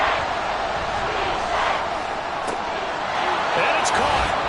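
A dense stadium crowd roars continuously at an American football game in a video game, a loud, sustained wash of cheering with a commentator's voice running over it.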